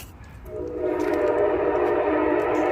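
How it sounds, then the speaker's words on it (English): An Amtrak train rolls through town somewhere off in the distance, its steady horn and rail rumble swelling after a quiet start and holding loud to the end, with no one talking. "Yep, sounds like an Amtrak train rolling through town here somewhere."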